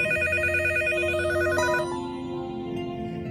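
A telephone rings with a steady electronic trilling tone that changes pitch partway through and continues to the end, loud and close with no talk over it.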